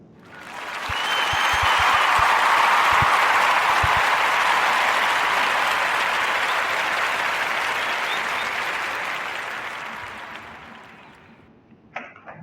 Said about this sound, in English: We still gonna clap it up for brother Jalen